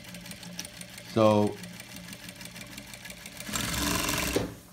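An industrial sewing machine stitches a quilt in two bursts, first a short loud whirring run and then a longer steady hum of stitching, with a brief spoken word in between.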